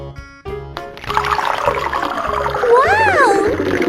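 Water gushing steadily from a toy water tank, a rushing pour that swells louder over a few seconds, mixed with toy music and electronic sound effects.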